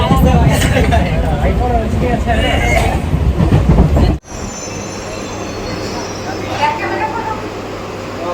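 Rumbling train noise with a metallic wheel squeal, cutting off abruptly midway and followed by quieter steady rail hum; people talk over the first half.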